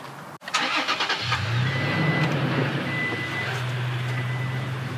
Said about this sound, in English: I'm gonna start up my truck and just make sure that everything is running properly on there.